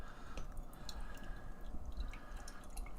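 Jester King Astral Reflections double IPA poured from the bottle into a glass, a close, steady gurgling and dripping liquid sound with a faint fizz, alone.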